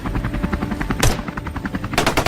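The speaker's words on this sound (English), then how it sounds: "Gunfire erupted in rapid bursts" Rapid bursts of gunfire from shooters aboard a low-flying helicopter firing at wild boar in brush, loud dense cracks layered over a steady rotor drone, with sharp louder shots near the middle and end.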